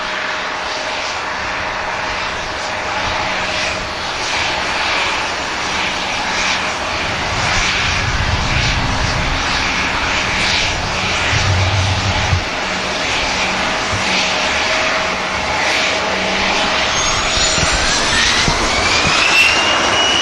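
Jet airliners, among them a TUI Dreamliner and a Ryanair jet, approach the runway at Manchester Airport with a continuous, fairly loud engine roar and whine carried outdoors.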